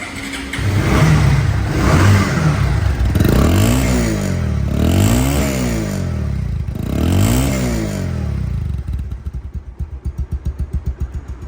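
A nearby second-hand Bajaj Pulsar double-disc motorcycle engine revs up and down several times in rising and falling surges, then settles into a rhythmic idle putter.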